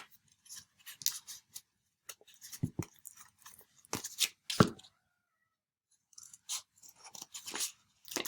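Scissors snip through a piece of trash to cut out a heart stencil, a series of close, crisp cuts and crinkles in short bursts with pauses between them.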